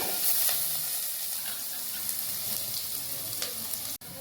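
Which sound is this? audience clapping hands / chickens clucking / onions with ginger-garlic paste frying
onions with ginger-garlic paste frying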